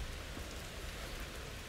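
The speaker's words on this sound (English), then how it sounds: "It's raining." On a Halloween night, steady rain falls as a continuous, soft hiss of drops on surfaces, faint and even throughout with no voices over it.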